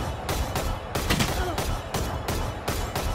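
Gunfire in a first-person shooter video game, rapid bursts of shots in a repeated rhythm, loud and close, with quieter game sounds between bursts and no clear voices over it.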